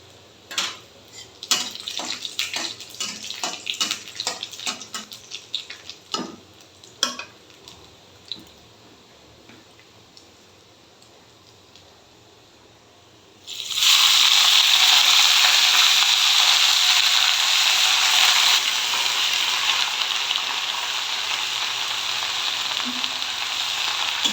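Dried red chillies, garlic and nigella seeds hit hot oil for cooking greens, giving a sudden loud sizzle that holds steady after earlier scattered kitchen clatter and taps.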